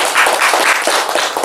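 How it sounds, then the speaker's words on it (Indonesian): An audience at a formal gathering claps loudly in a dense burst of applause that runs through the whole moment, with many overlapping hand claps close by. "Boleh tepuk tangan teman-teman."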